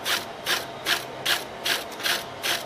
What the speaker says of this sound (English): I screwed it back down to tighten it